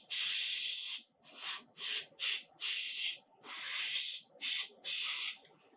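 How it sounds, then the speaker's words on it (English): Short airbrush bursts of dark sea blue paint sprayed onto a miniature, about eight separate hissing blasts of varying length separated by brief pauses, close and steady. "we'll just continuously layer this dark sea blue, spraying and drying as we go"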